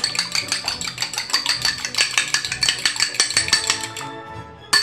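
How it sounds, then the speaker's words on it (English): Fork tines beat an egg in a small dish for a gluten-free strawberry rhubarb galette, a quick, steady run of bright clinking taps that stops near the end. "I'm going to whisk that up just with a fork."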